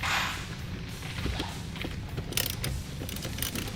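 A wrench cracking loose the nut on a car battery terminal, with close mechanical ratcheting clicks and a few sharper metallic ticks, moderately loud and alone without talk.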